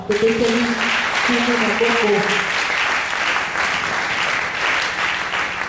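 A church congregation applauding loudly and steadily in a dense, sustained clatter of many hands, with voices calling out over the clapping near the start.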